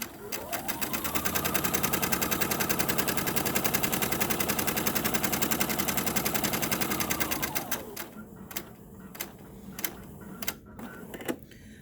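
A sewing machine stitches a pleated fabric face mask in one loud, steady rapid run of needle strokes lasting several seconds, then stops, leaving scattered soft clicks and handling sounds nearby.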